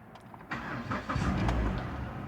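A Chrysler PT car's engine cranks briefly and catches, settling into a steady mid-pitched idle close by with nothing else heard.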